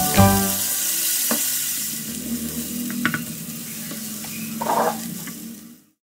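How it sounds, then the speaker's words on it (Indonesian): Ground shallot, garlic, ginger and pepper paste sautéed in hot oil: a steady close sizzle with a few utensil knocks and scrapes against the pan, then the sound cuts off. "kita tumis bumbu yang kita haluskan tadi hingga tercium harum"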